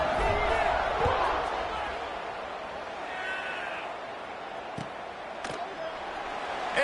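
A large American football stadium crowd roars and murmurs at a college game's kickoff, a broad, steady wash of distant cheering with a few sharp thumps, under little or no talk.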